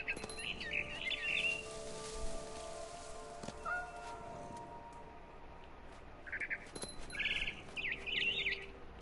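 A barn swallow chirping in the video game What Remains of Edith Finch, bursts of quick high twittering calls at the start and again near the end over soft ambient rain-like noise.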